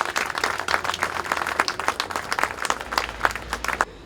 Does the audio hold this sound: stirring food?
no